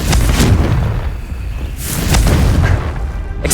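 Booming Confringo fire-spell blasts in Hogwarts Legacy, loud and close, with heavy low rumbling explosions rolling on continuously and swelling again near the middle.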